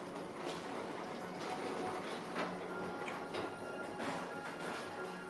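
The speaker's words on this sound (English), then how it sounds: "your express train keeps on rolling through the future" An express ride train at Magic Kingdom rolls along its track with a steady mechanical rumble and repeated rhythmic clacks, moderately close and continuous, with no voices.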